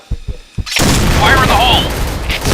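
A grenade blows up in a video game shooter: a sudden loud boom follows a few short thuds and sustains as a rumbling blast, with a faint voice beforehand.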